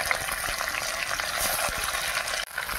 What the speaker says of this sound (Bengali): তো মাছ ভাজা হচ্ছে